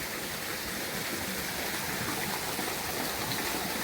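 A mountain stream flows beside a wooden hut in a Transcarpathian village, a constant broadband rush of water, close and even throughout.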